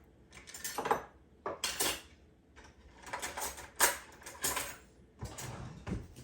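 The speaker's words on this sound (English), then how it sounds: "I'll take a fork and I'm just going to mix it up." A fork mixes melted butter into dry crumble ingredients for an apple crumble, giving irregular bursts of scraping and clinking against a bowl, close and fairly quiet, with short pauses between strokes.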